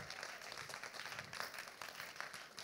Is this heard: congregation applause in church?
yes